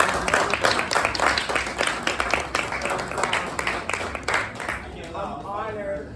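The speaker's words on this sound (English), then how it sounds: "just give yourselves a round of applause" Audience at a Hip Hop Political Party gathering, giving itself a round of applause with dense clapping that thins out toward the end, while voices talk over it.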